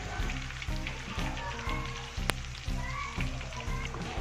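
Tomatoes fry in a pan of oil while sambal is prepared, giving a steady crackling sizzle with soft popping bursts at a moderate, close level.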